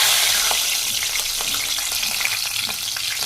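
Onions hit hot oil seasoned with a tempering of spices and turmeric, giving a loud, bright, continuous crackling sizzle with scattered spits and pops, close up and with no voices.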